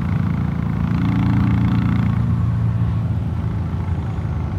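A Royal Enfield Classic 350 motorcycle engine, fitted with a DNA air filter, gives a steady, deep rumble throughout, loud and close, with a low throbbing idle that eases slightly toward the end.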